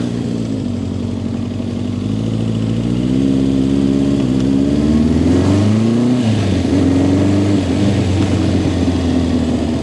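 A BMW R65 or Suzuki Katana motorcycle runs during a test ride, its engine note loud and steady, rising and falling in pitch as it revs and changes speed, close up with no voices.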